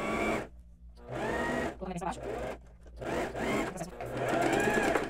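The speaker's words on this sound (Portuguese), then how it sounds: "Vou fechar os dois ombros e as duas laterais na reta no overlock." An overlock sewing machine stitches the shoulder and side seams of a basic blouse in several bursts of rapid mechanical whirring separated by short pauses, with someone talking between and over the runs.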